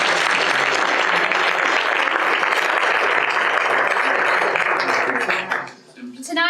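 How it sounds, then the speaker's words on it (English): A theater audience at a school production of Our Town applauds the home economics teacher who made the costumes. Thick, sustained clapping fills most of the stretch, then fades away as a voice begins at the end. "Let's have a round of applause for that."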